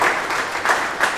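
Audience applause at a live talk event, with Futura 2000 in conversation with Hugo Vitrani, as a sustained wash of clapping from a crowd throughout, fairly loud and steady with slight swells.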